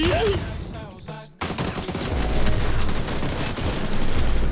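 Rapid bursts of video game gunfire crackle up close, with a brief pause before the shooting resumes as a dense fusillade mixed with game effects, no voices heard.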